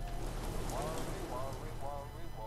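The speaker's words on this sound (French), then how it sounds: "On va dormir encore deux petites heures parce qu'il y a la pluie. Il pleut toujours." Steady rain hisses in the Fallout 4 video game, a continuous wash of falling water, with someone talking over it.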